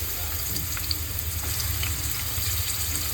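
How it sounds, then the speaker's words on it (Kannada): Chopped onion frying in hot oil in a home kitchen, a steady dense sizzle running evenly throughout, close and fairly loud, with no talking. "ಇದಕ್ಕೆ ಸ್ವಲ್ಪ ನಾನು ಎಣ್ಣೆ ಹಾಕ್ಕೊಳ್ತಾ ಇದ್ದೀನಿ ಈರುಳ್ಳಿ ಫ್ರೈ ಮಾಡೋಕ್ಕೆ"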